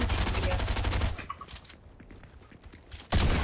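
Gunfire from a pump shotgun in the video game Fortnite comes as dense, rapid bursts of shots at the start and again at the end, with quieter clicks and clatter between them.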